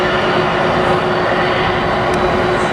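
A Spirit Airlines airplane coming in over San Diego gives a steady, loud broadband engine roar with a constant hum, filling the whole stretch with no talk.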